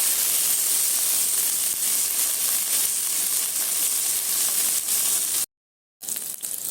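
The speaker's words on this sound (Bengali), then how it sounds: "ফুলকপিটা ভালো মতো ভাজা হয়ে গেছে" Cauliflower fries in hot oil for a vegetarian potato and cauliflower dish, giving a loud, steady sizzle and hiss. The sound cuts out briefly near the end, then the crackle comes back.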